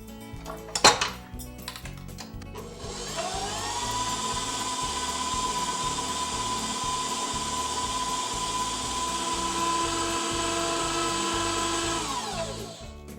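Stand mixer whisking cubed butter into raspberry Swiss meringue buttercream: a steady, loud motor whine with harmonic tones runs for about ten seconds after a brief clatter, then winds down at the end.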